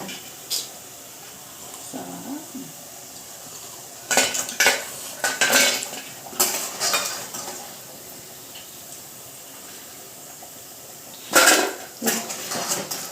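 Fried punugulu made from leftover rice and rice flour are lifted out onto a plate: close, bright metal clinks and scrapes of a utensil against cookware come in clustered bursts, with quiet gaps between them and no talking.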